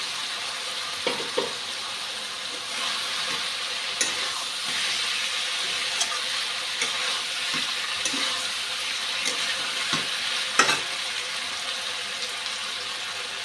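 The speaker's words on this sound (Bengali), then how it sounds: "এখন আলুটা দিয়ে দিচ্ছি।" Potatoes frying in a pan of spiced liver curry with a constant bright sizzle, punctuated by occasional soft clinks and scrapes as they are stirred, close and moderately loud.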